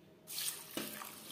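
Tap water runs steadily into a sink while lentils are washed, a broad rushing stream that starts abruptly after a brief quiet moment and continues alone at close range.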